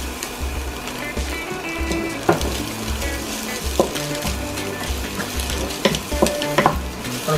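Noodles with egg and green chillies stirred together in a pan, a steady frying sizzle with repeated scrapes and clinks of the utensil against the pan, close and continuous.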